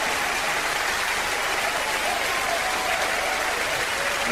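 A large crowd at the 1996 Eurovision Song Contest in Oslo applauds after Belgium's song: dense, sustained clapping that holds steady and loud throughout.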